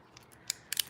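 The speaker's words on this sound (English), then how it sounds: "You can even like rip the backing off of here" Backing paper is ripped off a stamp sheet in a quick, crackling peel, a couple of short papery bursts heard close up in a quiet room.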